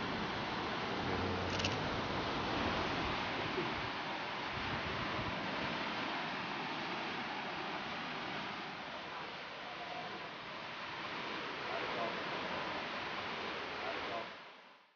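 The North Umpqua waterfall pours at its base with a steady, close rushing roar that holds for many seconds and then cuts off abruptly.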